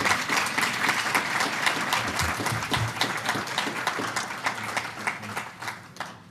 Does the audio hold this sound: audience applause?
yes